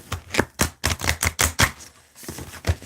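Oracle cards shuffled by hand, a quick run of crisp riffling snaps and taps in an uneven rhythm, close and fairly loud, with a short pause near the end before more shuffling.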